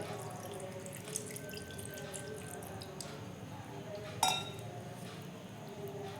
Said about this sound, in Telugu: ఇప్పుడు ఇందులో మనం సరిపోయిన పాలు వేసుకుందామండి ఇవి కాచి చల్లార్చిన పాలండి